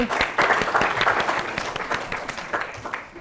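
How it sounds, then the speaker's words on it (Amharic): An audience at an Ethiopian children's television show claps for two contestants: a moderate, steady burst of applause that thins and fades out over a few seconds. "አጨብጭቡላቸው ለሁለቱ።"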